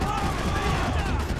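Dense, rapid gunfire in the Max Payne 3 video game, a short loud burst of overlapping shots with no pause.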